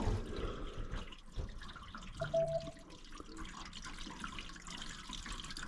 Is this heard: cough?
no